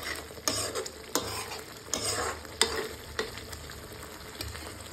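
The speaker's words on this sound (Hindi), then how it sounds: "तो ये पालक बढ़िया तरह भून रही है अब हमें।" Spinach frying in masala in a pan, with a steady sizzle and repeated sharp stirring scrapes of a spoon against the pan, close and clear, no talking.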